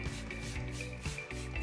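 Wet sanding of a boat's gel coat hull with water gives a continuous rubbing, scrubbing hiss with a steady motor hum underneath, uneven in places as the pad moves, close and moderately loud.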